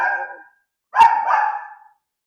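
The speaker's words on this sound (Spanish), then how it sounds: "Ay, este perrito cómo es..." A small dog gives a short burst of barks near the mic, then a longer, louder yapping bark after a brief pause, heard alone with no talk.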